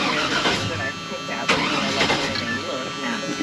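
A Chevy C-10 pickup truck's engine starts and runs at idle close by, a loud, rough continuous rumble with a few sharper surges, while someone talks over it.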